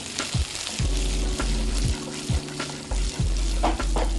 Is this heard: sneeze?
no